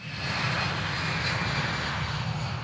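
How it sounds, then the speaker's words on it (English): Airplanes landing on the runway at Gatwick airport, a loud sustained roar of aircraft engines that holds steady throughout, with no speech. "as planes land on Gatwick's runway, passengers were warned to expect disruption."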